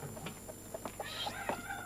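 Hens cluck in short, irregular bursts on a small family farm, a few close squawks and chatters scattered over a quiet background.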